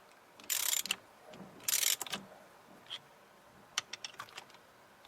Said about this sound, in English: I'm going to tighten these down.